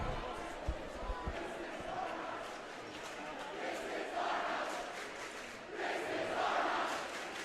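Rival crowds at a boys' high school basketball game between Regis Jesuit and Legend roar and chant back and forth after the final buzzer, a dense, swelling wall of cheering with a few sharp bangs early on.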